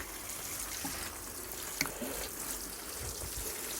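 Water poured into bottomless buckets to soak tomato plants during a dry, sunny spell, a soft continuous trickle and splash heard close up, with no talking.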